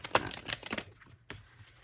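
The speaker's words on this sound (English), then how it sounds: "we're going to listen also to the sound of how it shuffles" An oversized oracle card deck being shuffled by hand, a quick run of papery riffling clicks up close and quiet, pausing, then one short final flutter.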